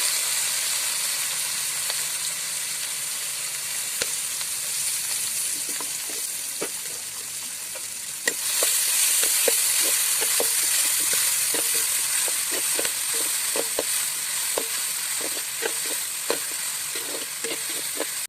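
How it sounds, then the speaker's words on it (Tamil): Onions frying in a pan for a village-style country chicken curry, a loud continuous sizzle close up, with scattered clicks of stirring that grow busier partway through, no talk. "வெங்காயத்தை போட்ட பிறகு வெங்காயத்தை நல்லா வதக்கணும்"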